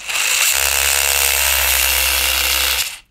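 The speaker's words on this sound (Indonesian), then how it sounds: "Ini bunyi transfer case." Transfer case of a hobby RC adventure crawler car spinning, a loud, close, continuous electric whirring buzz with a low hum beneath, steady throughout before stopping abruptly near the end.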